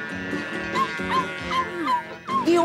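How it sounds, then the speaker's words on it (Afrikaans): A small dog barks and whimpers close by in a series of short yips and whines, with rising and falling cries repeated several times over a low background. "Die hondjie."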